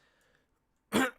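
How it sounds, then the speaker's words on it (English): A single short, loud throat clearing, close to the microphone, cuts in abruptly after near silence and then fades. "I've just had a nonstop cough"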